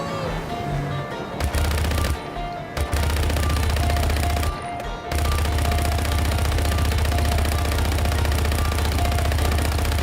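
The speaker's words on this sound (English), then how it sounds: "we got shots fired" Automatic weapons firing in the Just Cause 3 video game during a boat rampage: long, dense, continuous machine-gun fire with brief pauses, over a low steady engine hum.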